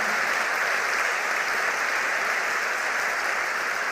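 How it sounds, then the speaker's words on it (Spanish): Church congregation applauding, a dense, even roar of many hands clapping at once that stays steady and loud throughout. "vamos a darle un aplauso a toda la iglesia"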